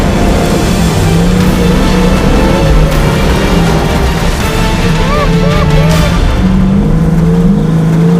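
A dirt car's engine revs hard and steadily while driving, loud and continuous with pitch rising and falling, as people shout and talk excitedly over it.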